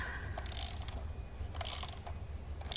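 Tightening the nut on the front wheel fork of a Joovy Zoom360 stroller: two short bursts of ratcheting clicks, quiet and close, with no talk.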